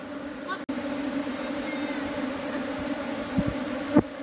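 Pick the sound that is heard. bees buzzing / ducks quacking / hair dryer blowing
bees buzzing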